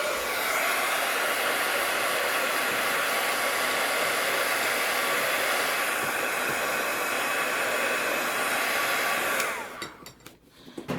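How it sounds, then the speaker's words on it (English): A hair dryer blows steadily on a handmade shaker card, a loud continuous whooshing roar that runs for about nine seconds before cutting off abruptly near the end. "we're just gonna hit this with a dryer really quick"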